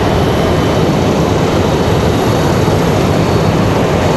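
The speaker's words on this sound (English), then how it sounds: "Alaska, of course, Alaska 920 headed back to Seattle." Alaska Airlines Boeing 737-9 departing Raleigh-Durham airport, a loud, steady broadband jet roar filling the whole stretch without letup, close and constant with no voices.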